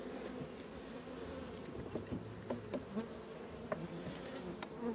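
Honey bees buzzing at small beehive colonies, a continuous drone of many wings with individual bees whizzing close past now and then.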